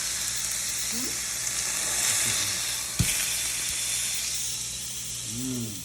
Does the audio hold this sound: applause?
no